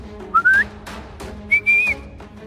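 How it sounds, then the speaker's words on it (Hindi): A person whistles two short rising tones, each under a second long, about a second apart, over faint room noise. "ये सीटी की आवाज कहाँ से आ रही है?"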